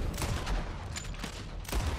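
Gunfire rings out in the video game Red Dead Redemption 2, a few sharp shots over a dense, rumbling battle background. The bursts come near the start, in the middle and near the end.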